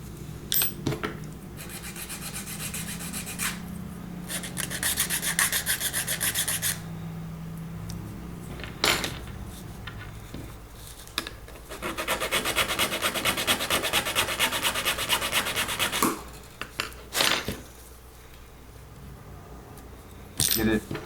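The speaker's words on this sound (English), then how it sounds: "So I filed out and cleaned out the area." A file rasping on a Hot Wheels Firebird drag car body to make room for axle tubes, in several bursts of scraping strokes with quiet gaps and small metallic clinks between.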